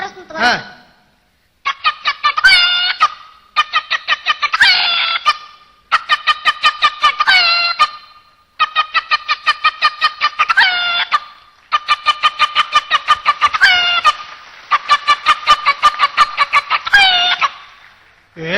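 A voice imitates a hen clucking, giving repeated rapid bursts of clucks in several rhythmic runs with short pauses between them, loud and close.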